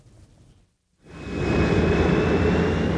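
An airplane in flight, its engine noise swelling in after a brief near-silent gap into a steady, loud broadband roar with a faint whine above it.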